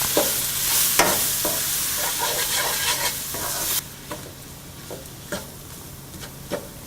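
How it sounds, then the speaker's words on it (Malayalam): Turmeric and coriander powder sauté in a hot pan for chicken curry, a loud continuous sizzle broken by repeated scraping stirs that thin out to a quieter fry with occasional sharp scrapes. "മഞ്ഞൾപ്പൊടി, മല്ലിപ്പൊടി എന്നിവയിട്ട് 2-3 മിനിറ്റോളം വഴറ്റുക."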